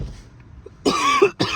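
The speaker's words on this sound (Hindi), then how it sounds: "थोड़ी खांसी हो रही है" A man coughs while out at a car market, a couple of sharp, close coughs after a quiet stretch with faint background murmur.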